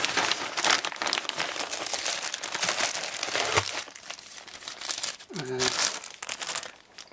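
Large plastic bag holding a handful of screws for a DIY 3D printer being handled, with dense continuous crinkling and rustling up close, and someone briefly talking.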